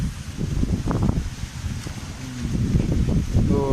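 Strong December wind blows around a roadside food stall, with a continuous rough roar and rustling clatter that builds toward the end. No one speaks.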